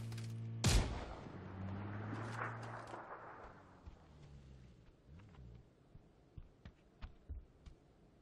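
Gunfire from the battle game PUBG: one loud close shot, then a string of sharp, fainter shots in an irregular rhythm over a low background hum.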